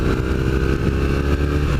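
A 2015 Triumph Thruxton motorcycle exhaust drones steadily while riding, a loud continuous low rumble with a constant engine note and no speech.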